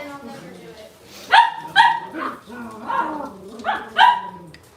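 A Cavalier dog barks in several clear yips and woofs, spaced irregularly, close by and fairly loud indoors, with a voice murmuring faintly underneath.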